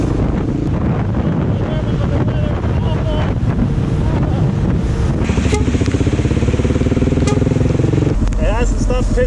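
A motorcycle rides through a heavy jungle downpour behind semi-trucks, with loud, constant wind roar buffeting the microphone over a low, droning engine that grows more prominent midway, and a rider's voice talking under it.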